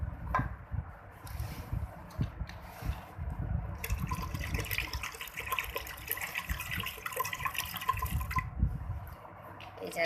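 Cold water poured into soaked yogurt in a kitchen to make lassi gives a soft, intermittent splashing and trickling, faint and close, with low bumps and handling noises around it.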